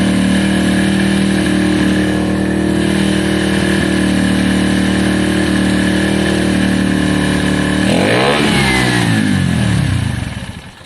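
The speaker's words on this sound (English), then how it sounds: "I can hear a bit of engine rattle." A KSR Moto GRS 125 motorcycle runs close by with a steady engine note and a slight rattle, then revs sharply up and back down before the sound cuts away.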